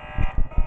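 An alarm in the video game Five Nights At Smudgers 2 pulses in three loud, buzzing bursts with a steady electronic tone running beneath, short and close.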